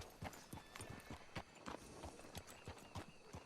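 Horse hooves clip-clopping at a steady trot in Red Dead Redemption 2, a regular rhythm of soft thuds, faint and distant under a low background.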